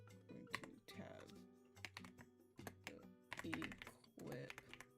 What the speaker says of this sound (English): I'm typing on my Obsidian note.